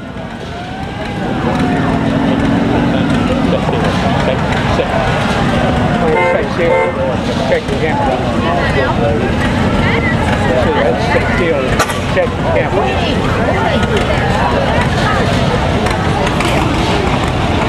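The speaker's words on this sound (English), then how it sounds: "John Deere 2-cylinder" A John Deere two-cylinder tractor pulls a Halloween-themed wagon at the Cotton Gin Festival, its engine a loud, steady chugging drone amid crowd noise and people talking nearby.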